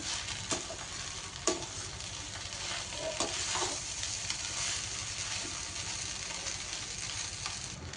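Avalakki (flattened rice) being stirred and mixed with coriander leaves in a hot pan: a steady, close scraping and soft sizzle that runs throughout, with a few sharp spoon knocks and no voices.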